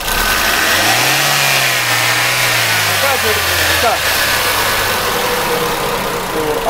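A Toyota Corolla GLI engine with a misfire is revved hard, its loud, steady drone climbing and then holding, with a rough, uneven pulse underneath. No one speaks.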